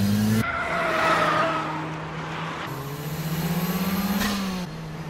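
Tuned sports car on a highway accelerating hard, engine roaring and climbing in pitch through gear changes, with a sharp tire screech at the start; loud and close throughout.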